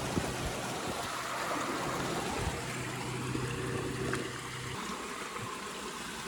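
A river flows around a 4x4 off-road camping crossing spot as a steady, fairly quiet rushing wash with a faint low engine hum underneath and no speech.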